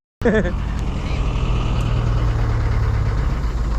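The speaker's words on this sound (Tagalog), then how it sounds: "Dodge Challenger ata makina nito eh." A boat's inboard engine, reportedly a Dodge Challenger motor fitted to an eight-person fishing boat, runs with a steady low drone close by after starting abruptly, with a brief voice at the start.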